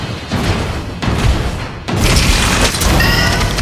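A loud booming explosion as a turret is destroyed in the Mobile Legends mobile game, with crashing impacts and layered game effects stacked close together over a few seconds.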